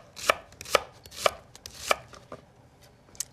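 A knife slices shallots with crisp, evenly spaced cuts, four strong strokes followed by a couple of lighter ones, close up and with no talking.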